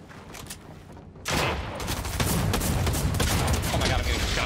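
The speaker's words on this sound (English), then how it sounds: "I heard a bunch of shots" Rapid gunfire in a Fortnite-style shooter with a new combat SMG, a dense burst of close, repeated shots erupting after a short quieter lead-in and continuing steadily to the end.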